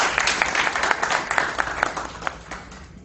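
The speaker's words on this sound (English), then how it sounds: "a big round of applause for our team that's moving away" Audience applause at a Toastmasters club installation ceremony honours the outgoing team, a crisp patter of many clapping hands at moderate volume that gradually thins and fades toward the end.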